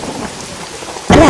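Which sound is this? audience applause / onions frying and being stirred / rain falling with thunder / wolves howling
rain falling with thunder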